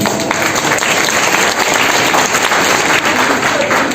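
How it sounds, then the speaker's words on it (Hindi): A large audience at a district youth conference applauds loudly and continuously, a dense wash of clapping with faint voices beneath. "मैं जोरदार तालियां इनके लिए देंगे।"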